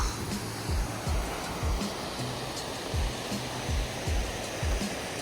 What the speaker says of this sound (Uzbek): Mana Sharshara. Mana mana tog'.